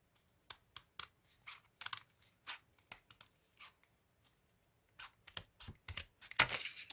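Scissors cut out a paper star template for a Christmas table decoration, producing soft, irregular snips and paper rustles close by and quiet, with a brief pause and a louder crinkle of paper at the end.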